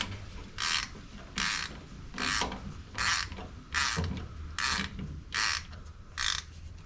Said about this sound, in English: go back to this to tighten all the hose clamps